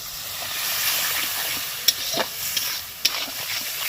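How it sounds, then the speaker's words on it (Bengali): Chicken with chili powder and a splash of water sautés in a pan, giving a steady moderate hiss broken by a few sharp spatula clinks and scrapes. No voices. "আর দিচ্ছি লঙ্কার গুঁড়ো আর এটাকে কষাবো একটুখানি একটুখানি জল দিয়ে কষাবো অল্প"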